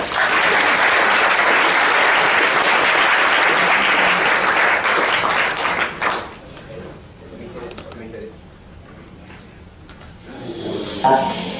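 A studio audience applauds loudly and steadily for the Insana family at a Skeptics event, the clapping sustained for several seconds before fading out into quieter room noise.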